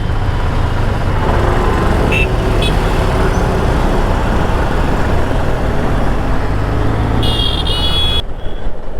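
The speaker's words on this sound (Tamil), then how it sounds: "எப்பா எவ்வளோ நிறையா டிராஃபிக்கு" Heavy road traffic in Coimbatore, a dense constant roar of engines and tyres close by, with a couple of short horn toots and a brief pair of higher horn blasts near the end before it cuts off.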